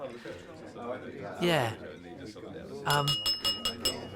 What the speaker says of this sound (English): Stop hitting the glass. Stop clinking the glass, Hayley.